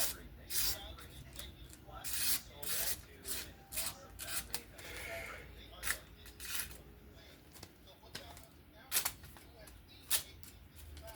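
A Divo Pony Stout pocket knife with a 14C28 steel blade carves curly shavings from wood in short, uneven scraping strokes, close and fairly quiet, with a voice speaking at times between them.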